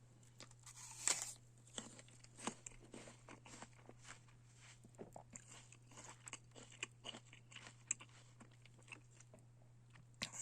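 Someone bites and chews a firm, juicy Mutsu apple close up: repeated sharp crunches and wet chewing in irregular rhythm over a steady low hum, faint and intimate.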